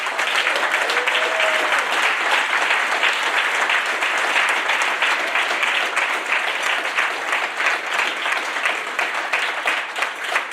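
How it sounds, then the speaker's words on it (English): An audience gives a warm, sustained round of applause as a journalist and commentator is welcomed onto the stage at a dinner event, with steady dense clapping and a brief cheer near the start. "I invite you to join me in giving a warm round of applause"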